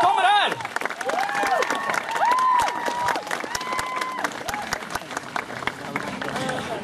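Audience applause and cheering at a cosplay prize award ceremony at a convention, a dense wash of clapping under an announcer's amplified voice.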